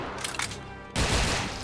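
Kar98 bolt-action rifle gunfire in the Brutal Wolfenstein mod for PC, a loud sudden blast near the end that rings out over a busy, noisy game soundscape.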